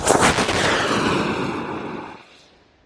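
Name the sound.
model rocket launching after countdown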